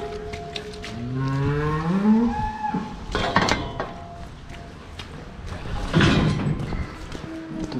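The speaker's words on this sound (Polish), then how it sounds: "Idziemy po krowy." Cows mooing on a farm, several long drawn-out lowing calls close by in the first half, with rustling and knocking sounds afterward and another moo near the end.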